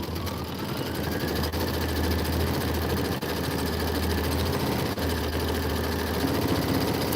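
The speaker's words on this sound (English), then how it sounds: "go ahead and do your quilting stitch" A sewing machine runs a quilting stitch on a small mitten piece, its motor humming in a steady, continuous drone for several seconds with brief tiny dips.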